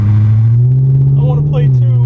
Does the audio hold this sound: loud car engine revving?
yes